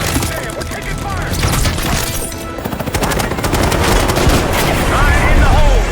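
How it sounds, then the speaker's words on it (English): Rapid gunfire rattles through a Call of Duty Black Ops 6 firefight, dense bursts and shots layered over continuous loud battle noise, with voices calling out during the exchange. "Damn, we're taking fire!"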